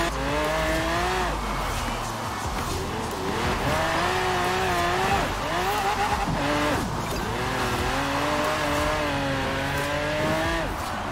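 Tyres squeal almost without a break through a long drift in Forza Horizon 4, with a racing engine droning and revving underneath. The screech rises and falls in wavering pitch, loud and close, and no one talks.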